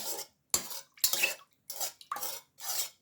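A spoon scrapes and clinks around a bowl while stirring oil into pizza dough mixture, in short bursts with brief pauses between strokes, close and fairly quiet.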